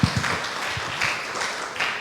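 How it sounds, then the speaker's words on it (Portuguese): A church congregation claps in praise during a Portuguese-language service, a short, fairly steady burst of applause that stays moderate in level throughout. "Dá uma salva de palmas ao Senhor."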